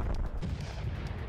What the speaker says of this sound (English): 105mm? All right, I'm going to attempt to target the AT-AT with this cannon.